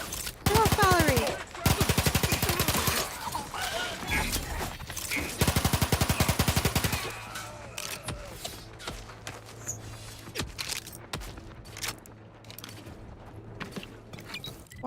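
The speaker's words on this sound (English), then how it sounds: "they're all shooting stupid goo at me" In The Outer Worlds 2, enemies unleash rapid bursts of gunfire and goo shots at close range for about seven seconds, followed by quieter scattered impacts, clicks and movement sounds.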